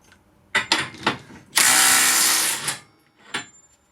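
A Makita impact wrench on its nut release setting fires a few short hammering bursts, then one sustained rattling burst of about a second as the nut breaks loose, followed by a brief final blip; close and loud, no speech.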